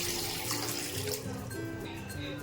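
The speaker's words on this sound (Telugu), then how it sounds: "ఇప్పుడు ఇందులోనే మనం చల్లనీళ్ళు వేసుకోవాలండి" Cold water pours into a mixer jar in a steady close splashing rush that softens and thins over a couple of seconds.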